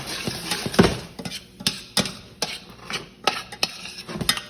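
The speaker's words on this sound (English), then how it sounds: "Toss it in my sauce." Vegetables and crispy mushrooms tossed and stirred through a thick Korean-style sauce in a pan, giving soft wet scrapes and a few sharp utensil clinks against the metal, close and fairly quiet with no talking.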